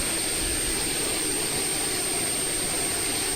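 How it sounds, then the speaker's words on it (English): A steady, loud, whining roar comes from the auxiliary power unit of an Embraer 190 airliner, running continuously with no voices. "That's an Embraer 190 APU for you, though, all right? That's pretty much what it sounds like."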